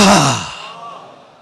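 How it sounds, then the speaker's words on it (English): A single deep breath, loud and close, with a strong rushing exhale that fades out over about a second, and no talking over it. "Deep breath. Deep breath."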